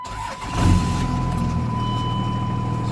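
A second-generation Cummins diesel engine in a 4x4 truck cranks briefly and catches, then settles into a loud, steady, close rumbling idle.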